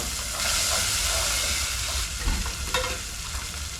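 Tomatoes cook in a sufuria pot, giving a dense hissing sizzle that swells and eases, with a couple of short metallic scrapes near the end and no speech.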